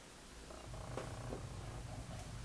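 A cat purring up close, a steady low rumble that carries on throughout with no talking.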